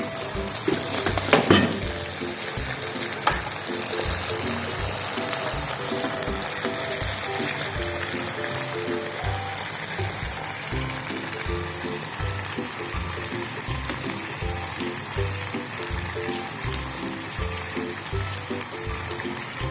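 Fried potatoes tossed into a sizzling chili sauce in a pan, a steady close frying hiss running throughout with a louder stir near the start and faint rhythmic scraping of the spatula.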